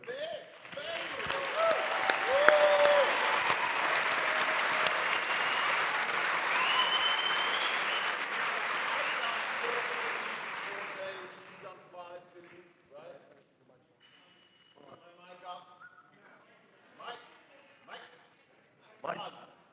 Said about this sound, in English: can we just have a round of applause for 990 Lorenzo for this?